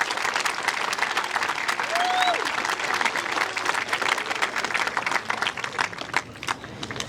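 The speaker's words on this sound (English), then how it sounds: "So can we please give Miss Amy Sonnen a round of applause?" Steady applause from a crowd at a school culmination ceremony, dense clapping filling the whole stretch at an even level, with a brief whistle-like tone rising above it.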